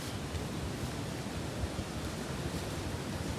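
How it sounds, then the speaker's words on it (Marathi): A flooded stream rushes after heavy monsoon rain at the foot of the Sahyadri near Bhandardara, a dense, steady roar of water filling the whole clip with no talking. "मंडळी तुम्ही बघू शकता किती पूर आलाय ओढ्याला"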